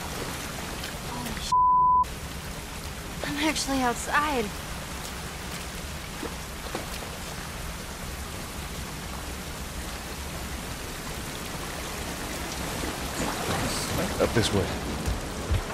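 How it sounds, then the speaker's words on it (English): Steady rain falls in the video game The Last of Us Part I, a constant hiss of drops on surfaces under occasional spoken voices and a brief tone. "This rain ain't gonna do us any good."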